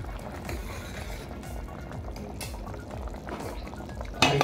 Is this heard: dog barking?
no